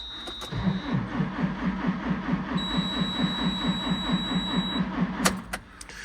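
On a cold day, a vehicle engine cranks but fails to start. A steady, rapid, rhythmic starter churn runs for about five seconds and then cuts off. It is close and moderately loud, with a brief tone heard early.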